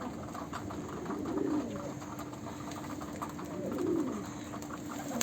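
Soft pigeon coos sound twice, a low throaty warble rising and fading each time, against a steady background hum.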